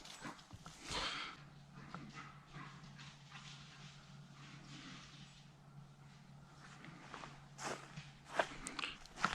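Hunting dog running off through brush to track a deer, heard as quick scrambling footsteps and rustling at moderate distance, with a few faint sharp noises near the end and no clear speech.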